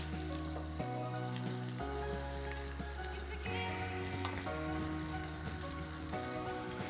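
Onions and Roma tomato fry in a pan, a soft continuous sizzle under a steady low hum, fairly quiet and unbroken for several seconds.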